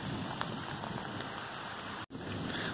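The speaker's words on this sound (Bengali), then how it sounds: "আর আমাদের এদিকে তো ভালো অল্প পরিমাণে বৃষ্টি হয়েছে।" Steady rain falls on garden plants such as basil leaves, a continuous close patter with no voices, briefly cut out near the end.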